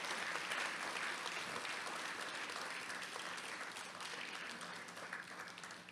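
Sustained audience applause at a film poster launch event, a thick, even roar of many hands clapping that holds steady throughout and tapers slightly near the close.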